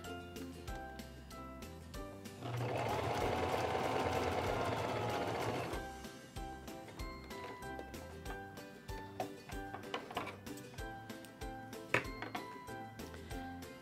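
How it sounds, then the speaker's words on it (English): A Singer 2273 Esteem II sewing machine runs a long, wide zigzag stitch in one steady, fairly loud whirring burst of about three seconds, framed by quieter clicks and handling noises. "Let's try sewing that out."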